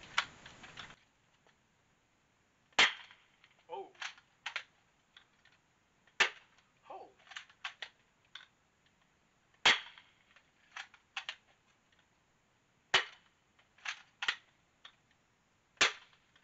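Adventure Force Deuce Pro dart blaster with an extended barrel fires a series of sharp, loud pops, each shot a crisp snap followed by brief mechanical clicks and rattles of priming, spaced a few seconds apart with no talk.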